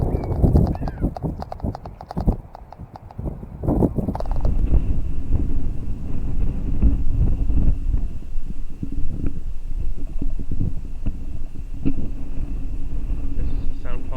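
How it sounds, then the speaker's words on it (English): Gusty wind buffets the microphone of a budget action camera outdoors, producing loud, uneven low rumbling and thumping bursts that persist throughout, with faint higher noise mixed in. "it's a little bit windy today"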